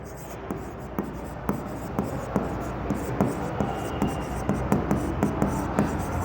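A pen writes accounting entries by hand on paper, making steady scratching strokes with regular soft taps as each line or word is finished. Someone speaks over the writing.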